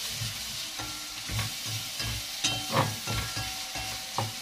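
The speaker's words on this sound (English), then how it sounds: "Okay, our onions are cooking." Onions fry in a pan, sizzling softly as a utensil stirs them in short repeated scrapes and clinks, close and moderately quiet, with no speech.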